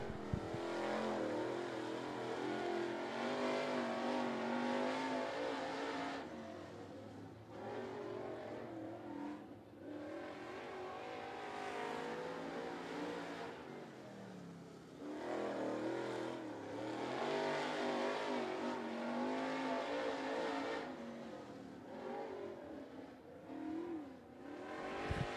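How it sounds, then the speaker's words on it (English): Late model race cars roar around the Wartburg Speedway oval, where one car loses control coming out of turn two. The engine noise is loud and continuous, swelling and fading as the pack passes. "Scott Shelton loses it coming out of turn number two"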